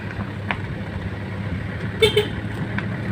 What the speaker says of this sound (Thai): รถใครครับออกไปเนี่ย